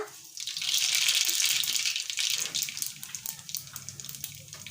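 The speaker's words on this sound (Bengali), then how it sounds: "তেলটা গরম হয়ে এসছে এখন আমি দিয়ে দিচ্ছি জিরে আর সরিষা" Cumin and mustard seeds hit hot mustard oil in a pan, giving a loud, steady hiss that swells and then settles into a softer crackling sizzle.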